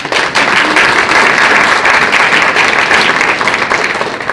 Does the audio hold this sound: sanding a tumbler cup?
no